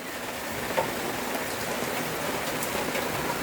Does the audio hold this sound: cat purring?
no